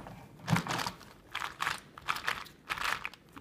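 Quick plastic clicking and crunchy ratcheting bursts as a 2x2x6 puzzle cube is turned, several short twists in an uneven rhythm, close up.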